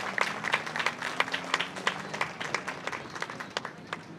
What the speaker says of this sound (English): Round of applause for our silver sponsors.